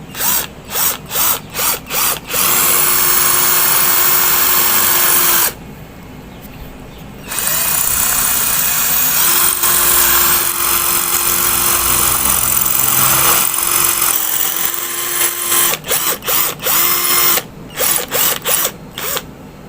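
A cordless drill fitted with a concrete bit bores into cement, loud and close. Short on-off bursts give way to long, steady grinding runs with a single brief pause, then the drill ends in a series of quick pulses.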